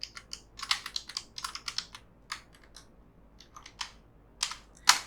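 Typing on a computer keyboard at a desk, quick irregular bursts of close, crisp key clicks with short pauses between them, no talking.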